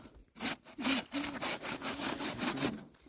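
Wood being hand-sawed outdoors on a winter hike in the Carpathian mountains, a steady run of about a dozen rhythmic back-and-forth strokes, close and fairly loud, with no voices.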